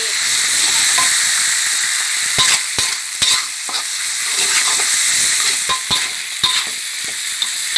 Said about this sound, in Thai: แล้วก็ลงไปผัดเลยนะคะ น้ำมันร้อนแล้วนะคะ ใส่ลงไปเลยค่ะ ปลาโอประมาณสองที